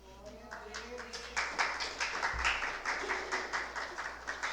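A church audience at a revival service breaks into rhythmic applause. The claps build from scattered hits into steady, fairly loud clapping that carries on to the end.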